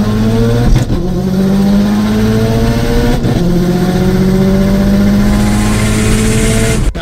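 A big turbo Subaru STI launches hard and accelerates, loud and close, its engine pitch climbing steeply through several gears with brief dips at each shift, running alone without talk.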